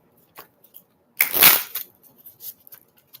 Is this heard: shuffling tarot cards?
yes